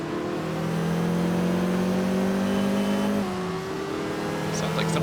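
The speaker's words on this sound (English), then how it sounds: "Yeah, you can definitely hear the turbo spooling up between each gear." A turbocharged car in the driving game Test Drive Unlimited spools its turbo between gear changes, a steady whine over engine drone that shifts pitch midway, loud and continuous.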